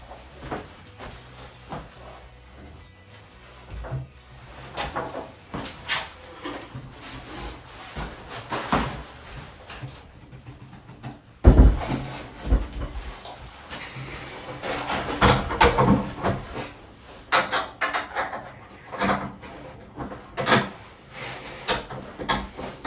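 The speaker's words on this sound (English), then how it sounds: "all I have to do is lift the door, put it in the already mounted top hinge, put the hinge pin in" A wooden door is lifted onto its already mounted top hinge and the hinge pin slid in, producing scraping, rubbing and knocking of wood and metal, with a sharp thump midway and busier handling sounds afterward, close by and without talk.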